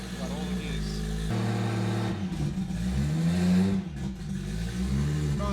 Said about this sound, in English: Hear the clutch on and off, engaging. See if it selects gears.